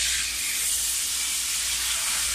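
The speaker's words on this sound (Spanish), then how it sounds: "mi papá friendo el pescado" Fish frying in a pan, a loud, steady sizzling hiss that runs unbroken from start to end with no voices.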